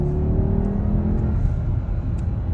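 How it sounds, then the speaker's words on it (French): A Mercedes-Maybach GLS 600 V8 engine hums and rises in a low, steady rumble as it accelerates, with wind and road noise around it. "Tu t'entends le petit bruit du V8 derrière."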